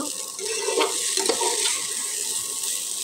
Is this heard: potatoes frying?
yes